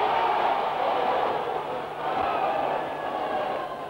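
A 1973 World Championship Wrestling arena crowd keeps up a continuous, excited roar, broad and steady, rising and dipping a little over a few seconds with no single voice standing out.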